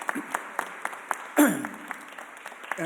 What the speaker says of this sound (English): I think that's worth a big round of applause.